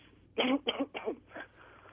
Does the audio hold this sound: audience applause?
no